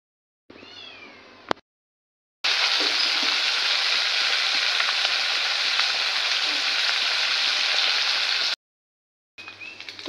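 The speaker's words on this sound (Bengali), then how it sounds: "এই যে তেলের মধ্যে কালো জিরা ফোড়ন দেওয়া হলো, আর দেওয়া হলো কাঁচা পেঁয়াজ" Nigella seeds and raw onion frying in hot oil, a steady dense sizzle heard close and loud for several seconds, with quieter household sounds just before and after.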